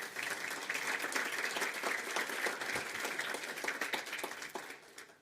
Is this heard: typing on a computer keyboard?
no